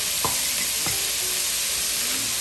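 Clam chowder base sizzling in a pot for Manhattan clam chowder, with a spoon stirring through it in a couple of quick scrapes over a constant frying hiss.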